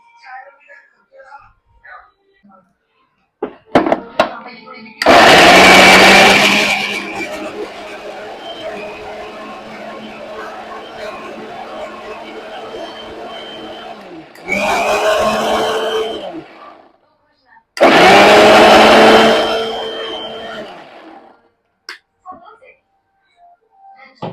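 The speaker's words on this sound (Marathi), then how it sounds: "आता हे मिक्सर जार मध्ये काढून घेते मी" A home kitchen mixer grinder whirs in loud bursts while blending gravy in a mixer jar: a long run, a pause, then two shorter pulses, with someone speaking quietly between them.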